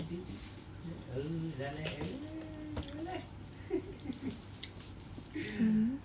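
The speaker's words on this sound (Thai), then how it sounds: "โอ้ยน้ำไหล" Water runs steadily from a tap in the background while a person talks over it, with a few clinks nearby.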